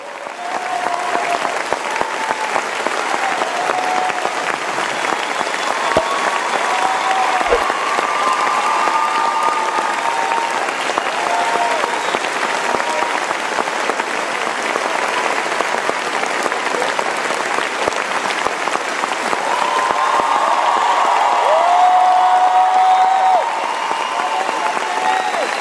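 Standing ovation at the Cannes Film Festival: a large crowd applauds continuously and loudly in a dense, sustained wash of clapping, with scattered voices and a few whistles mixed in.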